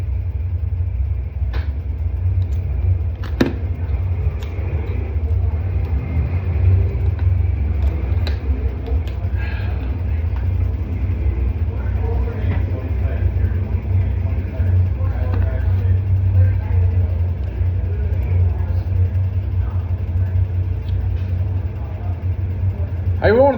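IMCA Modified race cars running laps on a dirt track, a steady deep engine rumble from a distance throughout, with scattered faint clicks and crowd noise, under an announcer's talk.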